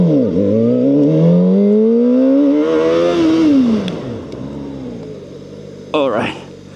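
A VOGE RR500S inline-four sport motorcycle accelerates hard through the gears, its engine note rising and dropping with each shift, loud and close before easing off, with wind noise throughout.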